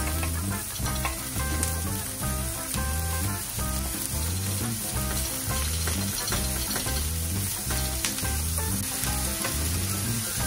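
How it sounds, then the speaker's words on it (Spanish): Onion, garlic and ginger sauté in a hot pan for fish curry, giving a steady close sizzle with repeated rhythmic scraping and stirring strokes throughout. "vamos a saltear la cebolla y siempre vamos a intentar que se abra un poquito esto"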